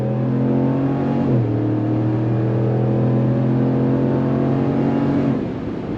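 A 2026 RAM 1500 Limited pickup with a Hemi V8 accelerates hard, its loud, steady engine note climbing in pitch, dipping briefly at a gear change around the first second, then pulling strongly again until the throttle eases near the end.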